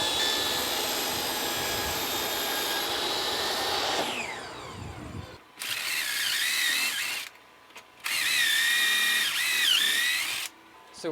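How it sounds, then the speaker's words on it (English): Power drill boring holes in wood during a solar kiln build, a steady high whine winding down, then short separate bursts of drilling broken by pauses. "we just have to drill the holes first"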